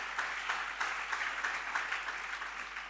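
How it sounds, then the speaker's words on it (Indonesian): A church congregation applauds in praise of God, a continuous wash of many hands clapping at moderate distance, fairly even with slight swells and no voices on top. "Beri tepuk tangan bagi Tuhan."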